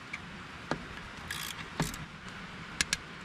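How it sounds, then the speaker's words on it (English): Ratchet wrench tightening the top nut on a CAT 308 excavator while changing its belts: a few sharp, close metallic clicks and brief clatters spread over a few seconds of quiet workshop background. "Let's go ahead and tighten down this top nut"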